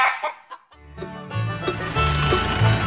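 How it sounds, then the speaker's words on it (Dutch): A chicken clucking, a few close, loud clucks and squawks in quick succession, heard alone. "Het dier op de puzzel is een kip."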